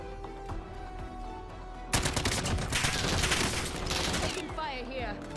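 Rapid bursts of automatic gunfire in a first-person shooter game erupt loud and dense after a quieter start, continuing as a sustained fusillade with a voice talking over parts of it.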